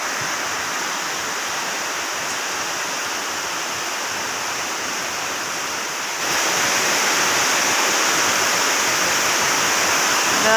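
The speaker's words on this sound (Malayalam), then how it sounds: "പറഞ്ഞ പോലെ തന്നെ അതിതീവ്ര മഴ" Extremely heavy rain pours down in a dense, roaring wash of noise, steady and loud throughout, intensifying further about halfway through.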